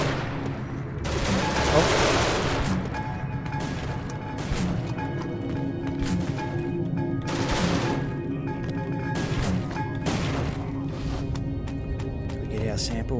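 Turret gunfire in the sci-fi game Genesis Alpha One sounds in repeated loud bursts across the clip, with a brief spoken exclamation over it.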